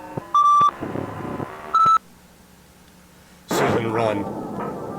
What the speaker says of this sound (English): Can they hear the beeping?